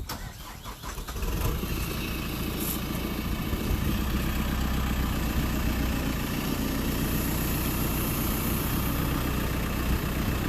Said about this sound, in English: raise your arm up and boom out all the way so you can see the full extension of your excavator arm